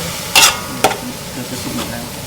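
Chicken curry filling for spring rolls sizzles in a pan as it is stir-fried nearly dry, with two sharp scraping strokes of the spatula near the start and softer stirring after.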